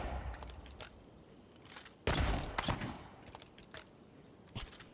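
A unique pistol in the video game Avowed fires one sharp, loud shot midway, surrounded by faint clicks and rattles and quieter later pops, with no talk.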